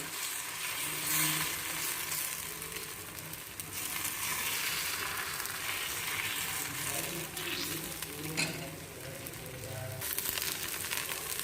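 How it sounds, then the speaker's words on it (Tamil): Rava dosa batter sizzling and frying on a hot pan, a continuous bright crackling hiss throughout with faint stirring and scraping, a voice speaking softly underneath. "இப்போ நம்ம தோசை ஊற்ற ஆரம்பிக்கலாம்."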